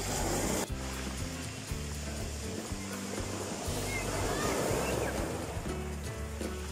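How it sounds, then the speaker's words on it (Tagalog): High ocean waves roll and break at the shore in the early morning at high tide, a continuous loud wash of surf mixed with gusty wind buffeting close by. "Ang tataas po ng mga alon dito ngayon."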